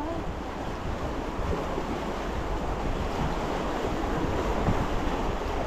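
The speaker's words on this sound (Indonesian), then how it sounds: "Ombak kuat guys." Strong sea waves surge and break continuously at sea, a loud, dense roar of surf mixed with wind buffeting the microphone, heard while fishing alongside fishermen, with no voices.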